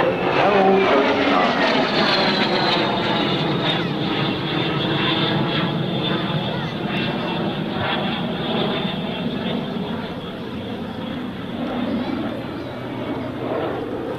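A propeller-driven aerobatic airplane with its smoke system on flies a big inside barrel roll, its engine a loud, steady drone that holds for the whole stretch with a slowly shifting pitch.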